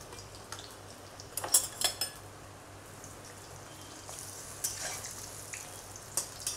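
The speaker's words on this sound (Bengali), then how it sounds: "এখন এখানে কিছুটা বেগুনি ভেজে নিই" Battered eggplant fritters, beguni, frying in a pan, a soft steady sizzle with a few clinks of a utensil and scattered light knocks, fairly faint and close, with no one speaking.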